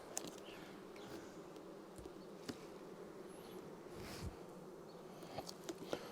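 Steady close hum and buzz of many honey bees at an open hive with comb still being capped, a dense drone with occasional louder individual bees passing near.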